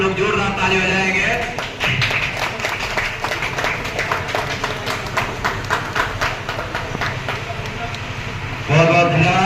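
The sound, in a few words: audience applauding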